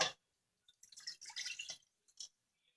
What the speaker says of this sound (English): what we're going to do is pour in our 1 cup of water.